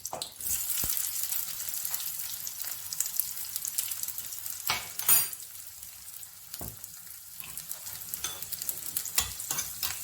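Curry leaves sizzle and crackle in hot oil for sambhar, a steady frying hiss with occasional stirring scrapes and a few sharper pops, close and fairly loud with no talking.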